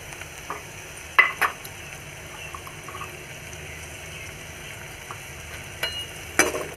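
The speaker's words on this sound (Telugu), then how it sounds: "మిక్స్ అయ్యేలాగా కలుపుకోవాలి." A spoon stirs onion pieces and a pinch of turmeric into rice in a pan, scraping and clinking now and then over a soft, steady sizzle.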